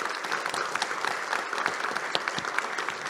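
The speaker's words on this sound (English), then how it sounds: "a round of applause for our fantastic panel" An audience applauds a conference panel on blue carbon in coastal ecosystems, a steady dense patter of many hands clapping at moderate distance, continuous throughout without voices.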